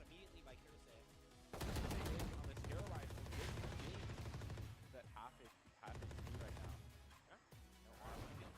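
Rapid bursts of gunfire from the Valorant video game, loud, with short pauses between volleys, under a commentator's voice.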